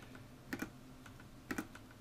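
A computer keyboard is typed on quietly during a DCSS game, two pairs of quick, close keystrokes about a second apart over a faint background hum.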